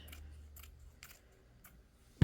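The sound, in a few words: scissors cutting stained fabric trim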